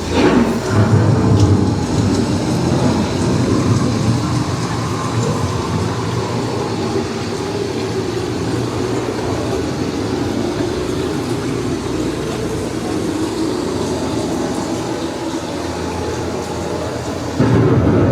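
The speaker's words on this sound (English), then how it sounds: "Ocean storm may seem violent and destructive to us, but to nature, it's a new beginning in this cycle of life." A simulated ocean storm effect on a theme park boat ride at EPCOT's Living With The Land, a loud, continuous wash of rushing rain and deep rumbling thunder that swells at the start and end, with no voices.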